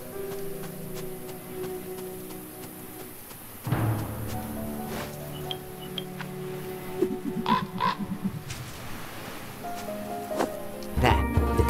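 Harsh crow caws from the video game Creepy Tale 2, several rasping calls in the second half over layered game music, near and fairly loud.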